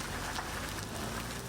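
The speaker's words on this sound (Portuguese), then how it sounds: "Poucos minutos de chuva ontem e um alagamento na esquina das ruas São José e" Steady rain pours onto a city street during a brief downpour that flooded a street corner, a dense continuous hiss of drops with no breaks and no voices.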